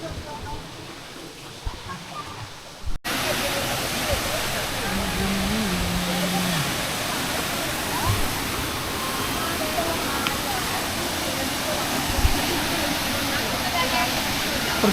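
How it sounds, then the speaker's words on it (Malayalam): Kanthanpara waterfall in Wayanad, running with low water flow, gives a steady broadband rush that stays even and fairly loud throughout, with a brief quieter, muffled start. "അപ്പോൾ ഇതാട്ടോ നമ്മളെ വെള്ളച്ചാട്ടം."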